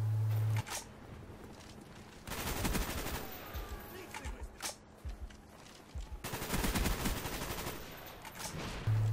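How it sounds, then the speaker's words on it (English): AK-47 automatic fire from Call of Duty: Black Ops 1 sounds in two long, loud bursts of rapid shots separated by a quieter stretch of scattered single shots and game noise. "here is number 4 with the AK-47 from Black Ops 1"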